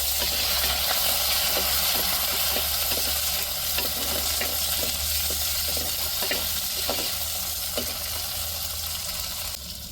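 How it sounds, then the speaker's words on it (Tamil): Tomatoes and chillies sautéing in a pan make a continuous loud sizzle with soft hiss, and a spatula stirring through them in a quick, repeated rhythm. "இப்போ தக்காளி மிளகாயை வதக்கிக்கிடுவோம்."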